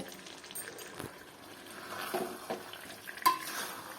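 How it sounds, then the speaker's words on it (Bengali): Fried potatoes stirred into chicken in a pan, a soft scraping and light sizzle throughout with one sharper clink near the end. "আলুটাকে এর মধ্যে দিয়ে ভালো করে নেড়ে নেব"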